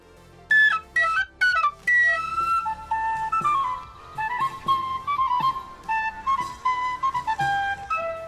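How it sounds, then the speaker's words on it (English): An overblown plastic whistle plays a bright, lilting bard-style tune alone, with quick chirpy notes and short slides in a lively, slightly shrill melody. "That line is just this overblown plastic whistle."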